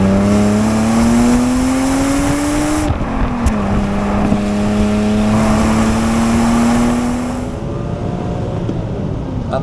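A powerful BMW E34 M5 engine revs hard and climbs steadily in pitch, shifts once, then pulls up again, loud and close before easing off.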